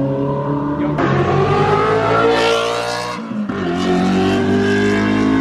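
A Ferrari supercar engine revs hard and loud nearby at a car meet, its exhaust roaring up through the gears, dipping briefly, then surging again.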